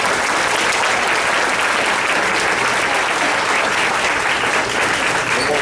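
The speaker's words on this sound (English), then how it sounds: "I'd like to give him a round of applause" A school band concert audience applauds a student teacher with sustained, loud, dense clapping that fills the hall from start to finish.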